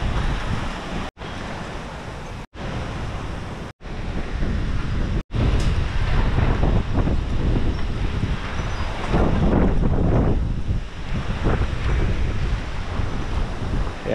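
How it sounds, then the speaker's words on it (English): Strong gusty wind in Central Texas roars and buffets the microphone, with a few brief silent cuts early on, then a sustained loud blustery rush. "Yeah, it's getting really windy."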